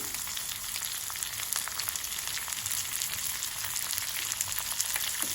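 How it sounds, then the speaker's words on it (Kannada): Curry leaves and a chopped onion frying in oil in a pan for a cumin rasam, a dense continuous crackling sizzle at steady volume throughout. "4-5 ಕರಿಬೇವಿನ ಎಸಳು, ಹಾಗೆ 1 ಈರುಳ್ಳಿಯನ್ನು ಹಾಕ್ಕೊಳ್ತೇನೆ."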